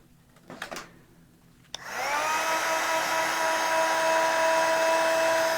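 A heat tool blasts Crusty Copper embossing powder for a paper journal page, switching on after a few light taps and then roaring with a steady, loud, high whirring hiss that holds to the end.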